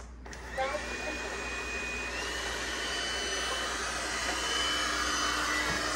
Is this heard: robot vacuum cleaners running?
yes